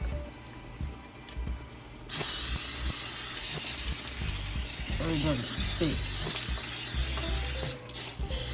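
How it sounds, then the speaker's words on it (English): A steady, close hiss of Pam cooking spray running into a pan for several seconds, with brief speech partway through. "I'm gonna spray some Pam in there"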